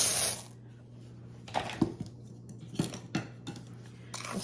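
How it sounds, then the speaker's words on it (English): Small hard cinnamon candies, a cup of them, tumble into a pot in scattered clicks and rattling bursts, close and fairly quiet, with gaps between the pours. "I'm going to add 1 cup of cinnamon candies"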